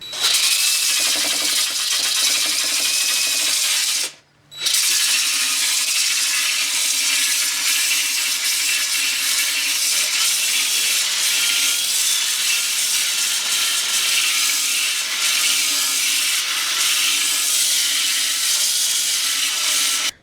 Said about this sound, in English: So this is about 20 minutes worth of sanding.